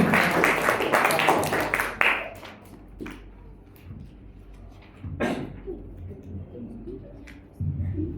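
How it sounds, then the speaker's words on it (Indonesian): Parents and teachers in the audience clap before a school competition final. A brief burst of full applause dies down into scattered single claps and soft room noise, with faint voices now and then. "Boleh tepuk tangannya Bapak Ibu sebelum kita mulai"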